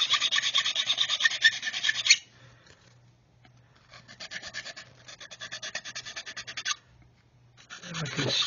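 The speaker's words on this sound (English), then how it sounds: "using the round file now to get into that radius corner" A round file rasps on a small part of a 1/32 scale HK Models Lancaster, working into a radius corner. Two sustained runs of rapid back-and-forth scraping come up close with a quiet gap between them, then a brief rougher rub at the end.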